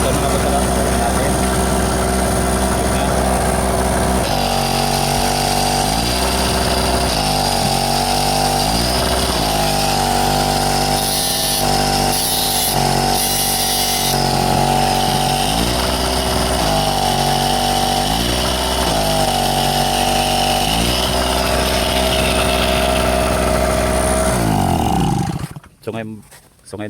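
A small portable gas generator engine that weakens under load running loudly and steadily at close range, revving and settling several times during adjustment before cutting out near the end; speech is mixed in.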